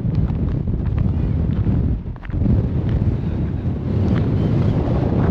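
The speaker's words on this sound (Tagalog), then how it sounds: "kasi lakas ng hangin eh" Strong, cold wind gusts across the mountains at frozen Abraham Lake, a loud continuous rumbling buffet on the microphone that dips briefly mid-way before surging back.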